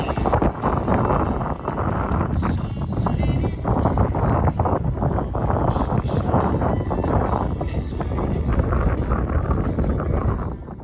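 Strong, gusty wind buffets the microphone at an RC model airplane festival airfield, a loud continuous rumbling roar with surging gusts and no clear engine sound.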